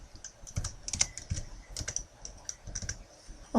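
Rapid, uneven keystrokes on a computer keyboard entering a value, close and clear, a steady run of clicks with short pauses and no talking.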